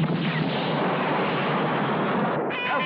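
A gun fires in the 1978 sci-fi film War of the Robots as one loud, continuous blast-like roar lasting nearly three seconds, dense and even in level.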